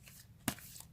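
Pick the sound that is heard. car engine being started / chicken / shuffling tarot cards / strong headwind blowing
shuffling tarot cards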